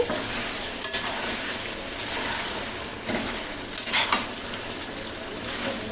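Sugar being stirred into biryani in a pot, a steady sizzle under a few sharp spoon scrapes and clinks against the metal, close and fairly loud.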